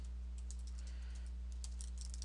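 Quick bursts of typing clatter on a computer keyboard as code is entered, faint keystrokes in an irregular run over a steady low electrical hum, with no talking.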